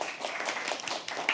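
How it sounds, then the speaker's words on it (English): An audience at a live poetry open mic at The Habitat claps steadily throughout, a dense, moderately loud patter of many hands filling the room. "Keep clapping till he comes on stage."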